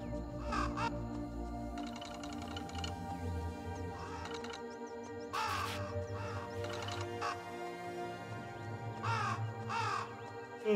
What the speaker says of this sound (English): And now the crows are eating everybody.